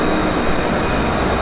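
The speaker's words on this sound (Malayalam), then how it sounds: "നമ്മുടെ ഈ ട്രാം പതുക്കെ ഇഴഞ്ഞ് നീങ്ങുകയാണ്" An Adelaide city tram pulling slowly away, a dense steady rumble and rolling wheel noise filling the space nearby, constant in level without voices.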